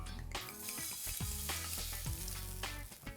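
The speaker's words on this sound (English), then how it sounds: "Next thing we need to do is add our red wine." Red wine poured into a hot pan of pancetta and garlic, bursting into a busy sizzle and bubbling with a few sharp hisses and clinks, fairly quiet and without speech.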